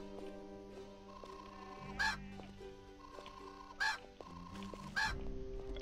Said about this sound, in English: What the hell is this chicken doing?